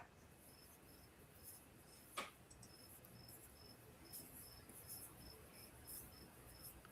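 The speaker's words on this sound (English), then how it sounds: "are those crickets on your end?" Crickets chirp steadily outside an open window, a faint continuous pulsing trill with a regular rhythm, joined by a single brief knock partway through.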